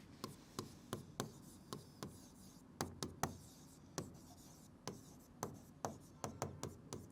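Chalk or marker strokes on a board during a maths lesson, a series of sharp ticks and short rubs in uneven bursts, close and faint, with no talking.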